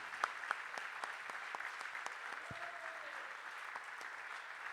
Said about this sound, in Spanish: Démosle ese aplauso grande al Señor.